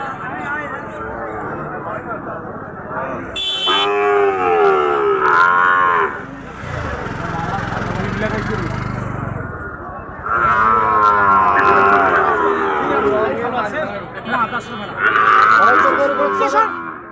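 Cattle moo repeatedly at a cattle market in Ambari, Dinajpur, several deep drawn-out calls close by, mixed with people talking in a busy outdoor crowd.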